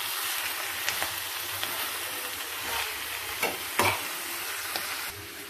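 Greens and green chillies sizzle steadily in a pan while a spoon stirs through them, with scattered scraping strokes over a continuous frying hiss and no talking.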